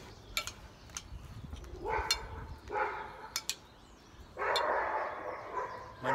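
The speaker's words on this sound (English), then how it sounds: "My neighbor's dog." Several dogs at a neighbor's property barking in short bursts at a distance, with a sharp yip or two, over outdoor background noise.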